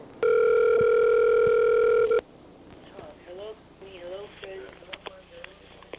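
An unanswered phone call starts with a loud steady ringback tone for about two seconds, then cuts off, followed by a voice talking over the line.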